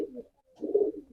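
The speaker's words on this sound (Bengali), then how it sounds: "দেখতে পাচ্ছেন অল্প কিছু কবুতর, যেগুলা মোটামুটি বাছাইকৃত কবুতর" Selected pigeons at a pigeon farm give two soft, close coos about half a second apart, with a brief quiet gap between them.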